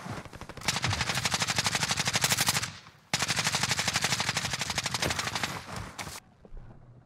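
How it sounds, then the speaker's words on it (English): Sustained rapid gunfire from a Warzone match, two long bursts of evenly spaced shots, loud and close, separated by a brief gap and trailing off near the end. "These guys are getting sniped by someone else."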